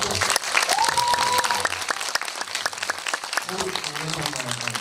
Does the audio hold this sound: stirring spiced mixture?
no